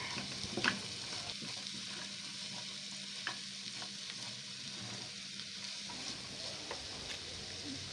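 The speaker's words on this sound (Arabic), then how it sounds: "هشوحه معاها وفي نفس الوقت القوانص هتبتدي تكمل سواها" Chicken livers and gizzards sauté in a pan, a steady close sizzle with occasional stirring scrapes and clinks running throughout, no voices.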